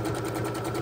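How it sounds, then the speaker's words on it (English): Sewing machine chain stitching quilt blocks, a steady, even mechanical whir with a rapid rhythmic pulse, faint and continuous with no talking. "start by chain stitching my four blocks, my first four blocks,"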